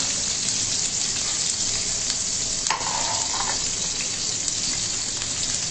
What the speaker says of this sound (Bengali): এই যে বেগুন ভাজা করতেছে